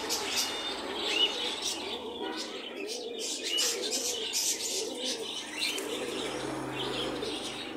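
Highflyer pigeons at a busy pigeon market coo softly in repeated low, rolling phrases, with scattered chirps, a few wingbeats and faint background voices.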